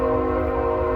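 A train on a nearby railroad sounds a loud, sustained, steady horn-like tone over a low rumble, close and unbroken for the whole moment.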